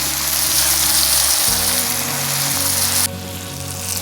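Meat products sizzle steadily in a pan for solyanka, a dense broadband frying hiss with low stirring clatter underneath, the sizzle dropping slightly quieter near the end.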